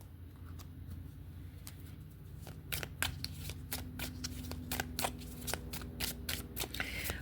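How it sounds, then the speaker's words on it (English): Tarot cards are shuffled and laid out, giving a fast run of sharp, close riffling snaps and flicks that grows denser and louder over several seconds, with no talk. "I want to get the cards laid out"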